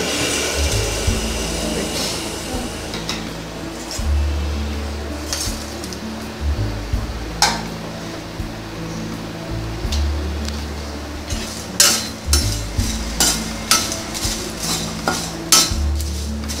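Whole spices and bay leaves dry roasting in a pan for garam masala, with repeated clinks and scrapes of a spoon stirring against the metal over a steady background rumble.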